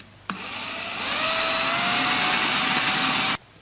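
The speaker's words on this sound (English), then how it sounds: "Just drill a hole the right size, which in this case is 3/8 inch." A drill boring a 3/8-inch hole in an HDPE plastic gas can, starting abruptly with a whining motor that holds a steady high drone for about three seconds before cutting off sharply.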